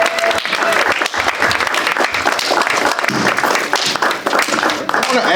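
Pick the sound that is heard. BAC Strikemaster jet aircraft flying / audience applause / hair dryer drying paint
audience applause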